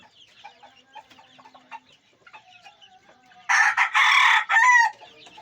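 A rooster, a blue-legged gamecock, lets out one loud, close crow late on, rising and holding before breaking off, after a stretch of quiet farmyard background with faint scattered bird chirps.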